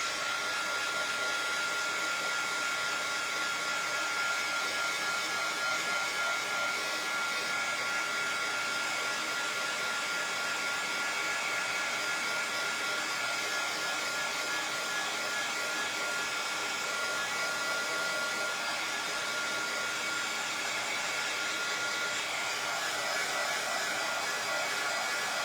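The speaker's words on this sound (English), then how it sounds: "now I'm going to dry it real quick" A hair dryer blows continuously to dry paint on a Christmas craft piece, a steady, loud, close whooshing hum that runs unbroken and alone throughout.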